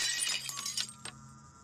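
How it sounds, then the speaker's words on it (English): Window glass shatters in the Cartoon Cat video game: a loud, sharp burst of breaking glass, followed by a few scattered tinkling fragments that fade out over about a second and a half. "That sounded like a window shattering."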